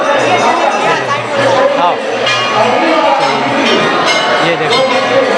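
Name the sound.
crowd of devotees at Shri Ram temple, Raipur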